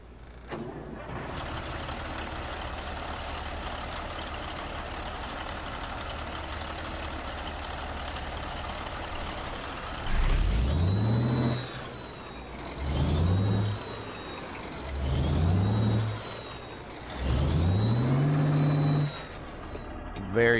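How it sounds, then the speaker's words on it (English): In American Truck Simulator, a low engine hum idles steadily, then a heavy truck engine revs up in four loud surging bursts, each rising and falling. "Let's start up the truck."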